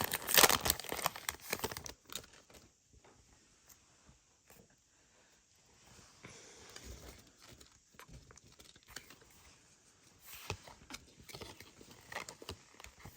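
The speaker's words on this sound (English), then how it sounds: "Finn, let's get another pack going. And this is Shrouded Fable" Crinkling and tearing of a Pokemon Shrouded Fable card pack being opened, a loud crackling burst at the start, then softer intermittent rustling and crinkles close by, growing busier again toward the end.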